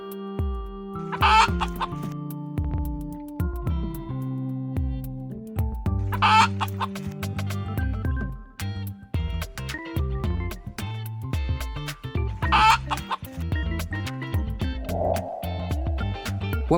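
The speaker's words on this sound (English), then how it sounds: "You got it right, it's a chicken." A chicken clucks in repeated short bursts over a light, steady musical backing, close and clear with no voices.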